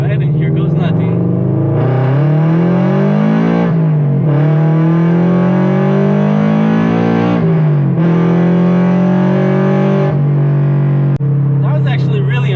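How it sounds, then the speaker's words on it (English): A car accelerates hard from a stoplight and the engine climbs loud and strained through several gear changes, each pull rising in pitch and then dropping before the next. "As soon as it goes green, I'm just gonna gas it."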